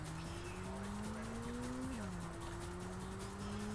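Race car engine in the Ridge Racer video game, a sustained droning whine that rises steadily then drops sharply mid-clip before climbing again, with tire skid noise underneath at a constant close level.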